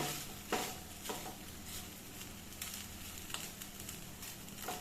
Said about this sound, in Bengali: এবার আঁচ কমিয়ে আমি এটাকে একটু ফ্রাই করে নেব